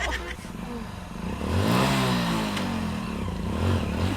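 A motorcycle engine in a Hindi cartoon rises into a rev and then holds a steady running drone, heard under animated voices and some clatter.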